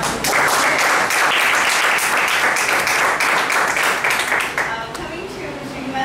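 A room full of people claps in a sustained round of applause at a speech evaluation session, steady and fairly close before thinning out toward the end.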